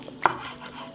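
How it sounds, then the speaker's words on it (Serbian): A knife cuts through cooked homemade chicken sausage on a board, a single crisp chop landing against a soft background hum. "I sada ćemo iseći kuvanu kobasicu."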